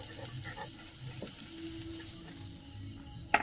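Tomatoes frying in oil in a home kitchen give a faint, steady sizzle throughout, ending in a brief clatter.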